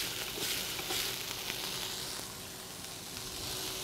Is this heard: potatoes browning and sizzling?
yes